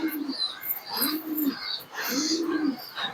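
Pigeons coo in repeated low, rounded phrases, three clear calls with brief gaps, close by, over faint higher chirping in the background.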